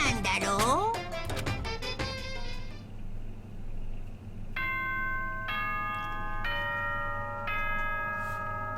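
Announcement chime from the Danganronpa: Trigger Happy Havoc video game: a sustained multi-tone ding-dong bell pattern of four stacked chime notes sounding in steps, following a brief burst of talk at the start.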